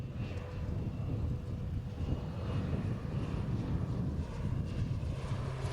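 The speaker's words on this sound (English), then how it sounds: "Airplanes spent most of the day dousing the landfill site in hopes of clearing that area of pockets of fire and smoke" Firefighting airplanes fly over a burning landfill while dousing it, a faint, steady engine drone heard from a distance with a broad low rumble and no voices.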